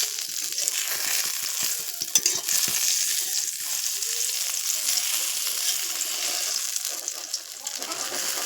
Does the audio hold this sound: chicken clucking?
no